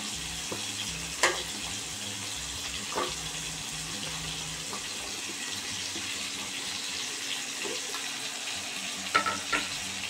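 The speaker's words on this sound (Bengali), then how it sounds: "দিয়ে নুন হলুদ দিয়ে এবার আস্তে আস্তে ভাজা করব।" Pointed gourd and potato pieces frying in a pan with salt and turmeric give a soft, steady sizzle, with occasional sharp clinks and scrapes of a utensil stirring, fairly quiet and without talk.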